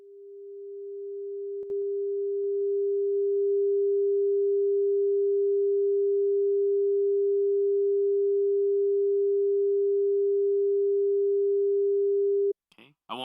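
A steady 400 hertz pure test tone held loud and unbroken for about eleven seconds, rising slightly at the start, then cutting off abruptly into a brief burst of other sound; no speech over it.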